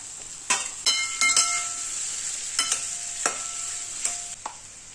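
Boiled, chopped potato cubes are tipped into a frying pan and stirred with a spoon, producing a few sharp scraping clacks over a faint, steady sizzle in a quiet home kitchen.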